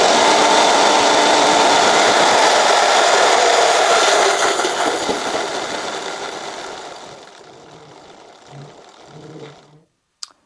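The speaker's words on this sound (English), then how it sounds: "the rear wheel will slowly begin to either in reverse or forward motion" Whirring hum of an electric bike's hub motor calibrating on a Ventus Aetos controller as the rear wheel slowly turns, loud and steady at first, then fading over several seconds before a small click at the end.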